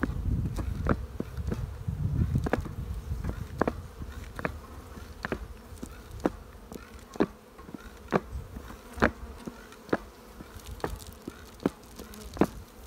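Bees buzz around an open beehive during a spring inspection, a soft steady hum close by, punctuated by a regular series of sharp ticks and light knocks.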